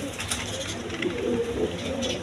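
A pair of Giribaz pigeons, a high-flying breed, coo softly and continuously close by, a low rolling murmur with faint higher chirps now and then.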